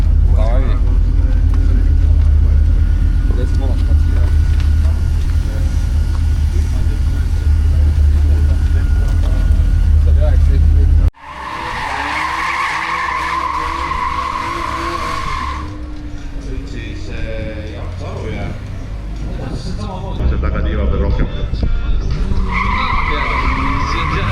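A drift car engine warming up rumbles loudly and steadily up close at a drift event, then shifts to higher, whining revs with a murmur of voices underneath.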